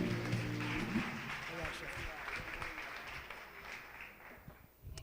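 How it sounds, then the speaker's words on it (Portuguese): Church congregation at a worship service clapping for Jesus, a soft, distant wash of applause that slowly fades while a voice speaks over it. "Uma salva de palmas bem forte para Jesus."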